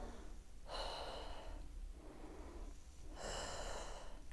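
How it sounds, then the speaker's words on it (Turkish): Deep breathing during a pregnancy exercise with a hoop, two long, audible inhalations close to the microphone separated by a quieter pause over a low background hum. "Al nefes."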